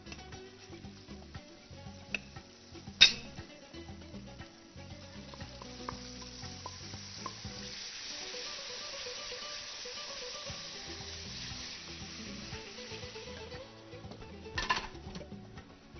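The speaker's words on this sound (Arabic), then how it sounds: "وهقلبه وهيبتدي يغلي معايا" Roux being stirred in a pan on the stove with water added, sizzling and bubbling steadily as it starts to simmer, with an occasional sharp clink of the spoon against the pan and no talk.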